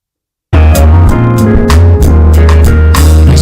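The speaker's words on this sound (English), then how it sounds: "Nice little live backing band there." A live backing band at a Tiny Desk concert starts after a brief silence with a loud, dense groove of deep bass notes, snappy drum hits on a steady beat and sustained keys, all close and full.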